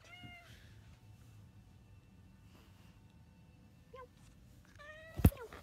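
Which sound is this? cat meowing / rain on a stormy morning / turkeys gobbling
cat meowing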